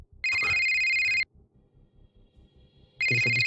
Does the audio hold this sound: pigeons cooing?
no